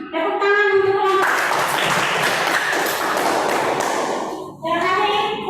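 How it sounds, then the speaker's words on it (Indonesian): A classroom claps for a student group: a burst of hand-clapping lasts about three seconds, framed by short tonal ringing sounds before and after. "Tepuk tangan untuk kelompok."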